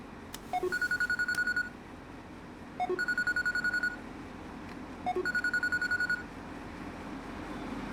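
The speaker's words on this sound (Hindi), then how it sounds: "तुम्हारा फोन बज रहा है।" A mobile phone rings three times in a steady pattern, each burst a bright electronic chirping tone lasting about a second, clear and near over a low background hum.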